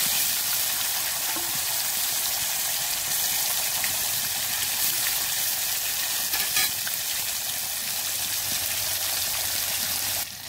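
Pieces of chitol fish frying in hot oil give a steady, dense sizzle that hisses evenly and continuously from start to finish, with no voices over it.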